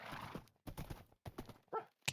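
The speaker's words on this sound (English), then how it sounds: "Well, this horse can swim" Minecraft horse sounds in a hardcore game session, a few short game-sound bursts separated by gaps, including hoof-like clops and a brief whinny-like call, close and fairly quiet.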